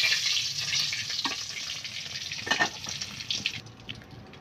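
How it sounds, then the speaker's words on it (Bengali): Country chicken eggs fry in oil seasoned with turmeric, chili powder and salt, giving a steady close hiss of sizzling with scattered crackles and no speech. "ডিম ভাজা হচ্ছে, এখন তুলে নেব।"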